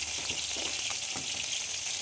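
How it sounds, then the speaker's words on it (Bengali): Fish fries in a hot pan until reddish-brown, giving a steady, dense sizzle and crackle that runs unbroken throughout, close and moderately loud, with no talking. "মাছটা লাল লাল করে ভেজে নেবো"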